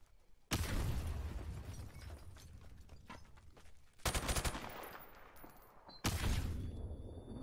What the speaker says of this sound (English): You used a flashbang.